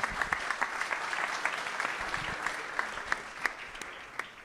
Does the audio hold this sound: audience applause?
yes